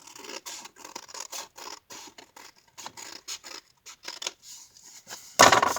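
Scissors cut paper for a handmade card in a series of quick snipping strokes, close and fairly quiet, ending in a louder rustling crunch of paper.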